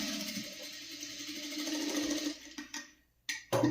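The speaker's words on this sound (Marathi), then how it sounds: "आता इथे आपण शिलाई मारून घेऊया." Sewing machine stitching a V-neck seam on fabric runs in a steady whirring burst for about two and a half seconds, then stops and restarts in short spurts, close and fairly loud.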